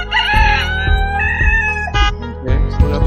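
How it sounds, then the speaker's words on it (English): A rooster crows loudly and close by, one long drawn-out call followed by shorter clucking and squawking notes. "still got the crazy rooster"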